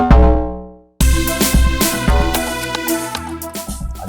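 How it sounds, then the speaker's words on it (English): Log drums layered with an extra Log Drum VST sound: a decaying tonal note fades out, then punchy, deep pitched drum hits return in a busy, loud groove with other instruments. "So I added another sound from Log Drum VST."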